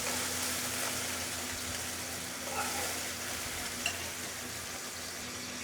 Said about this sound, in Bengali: আমি সয়াবিনগুলো একটু হলুদ আর লবণ দিয়ে 2 মিনিটের মতো ভেজে নিচ্ছি